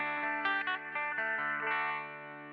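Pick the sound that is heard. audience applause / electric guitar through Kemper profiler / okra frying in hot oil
electric guitar through Kemper profiler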